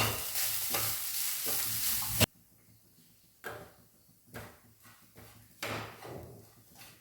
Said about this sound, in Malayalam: കറിവേപ്പില ഇട്ടു കേട്ടോ.